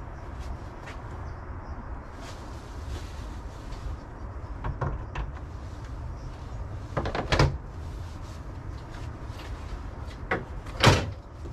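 Hood of an 1988–91 Honda Civic hatchback fitted with billet hinges being lifted off and handled, giving a few scattered metallic clunks and knocks, sharpest near the end, over a steady low background rumble.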